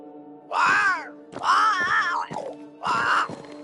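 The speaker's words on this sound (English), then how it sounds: "But it's a bird. It's Ceridian, by way of the invisible, speaking through the crow" A crow in the video game Banishers gives three long, harsh, drawn-out caws with short gaps between them, close and prominent against a quiet background.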